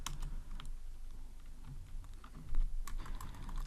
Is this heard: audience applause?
no